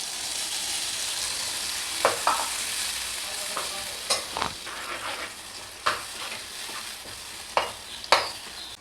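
Tomatoes and a ground ginger, garlic and onion paste frying in a pan for mushroom gravy. A steady soft sizzle runs under repeated scraping stirs and clinks of the spoon, close up, with no talking.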